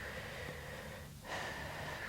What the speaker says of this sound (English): Well done. Breathing in and out.